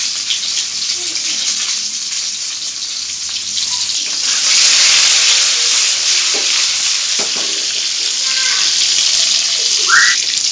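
Food lightly fried and stirred in a salted pan gives a loud, continuous close sizzle with scraping stirring sounds running through it.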